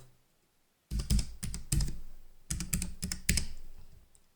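A password is typed on a MacBook keyboard after a moment of silence: two quick bursts of close, crisp key taps with a brief pause between them and no voice.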